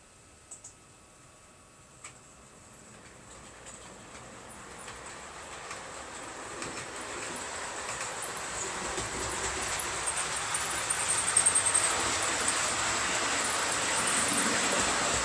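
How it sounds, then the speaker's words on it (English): Model trains run on a layout, a soft rolling rumble and clicking of wheels over track that builds gradually from quiet to a steady, closer clatter, with a few isolated ticks early on. "let's see if I can get these trains going again."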